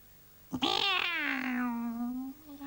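A cat meows for milk, one long drawn-out, wavering meow close by, preceded by a short chirp, in an otherwise quiet room.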